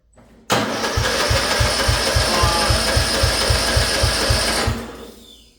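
A mud mower's engine cranks over to start, a fast, regular chugging of evenly spaced beats that goes on for about four seconds, cuts off sharply, and never fires.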